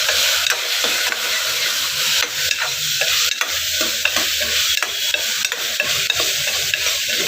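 Chili powder and coriander-cumin powder being stirred in a frying pan: continuous scraping strokes of a spoon over a steady oil sizzle, loud and close with no speech.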